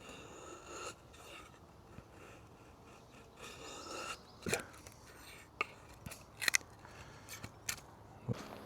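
Bushcraft knife shaving paper-thin curls from wood, giving soft scraping strokes with a few sharper clicks and snaps, close to the microphone, over a low outdoor background hiss without talk.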